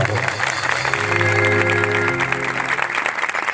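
Church congregation clapping together, a loud, dense patter of many hands close by, with a sustained held tone and voices mixed in underneath.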